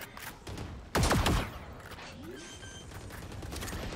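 Gunfire in a Valorant match on the Ascent map: a loud burst of shots lands around the one-second mark amid quieter clatter, footsteps and game effects, with no voices in the stretch.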